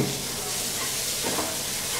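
Slices of Bombay toast frying in a pan, giving a steady soft sizzle and hiss with a brief stir partway through, close and alone without talk.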